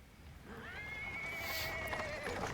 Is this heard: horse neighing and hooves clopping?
yes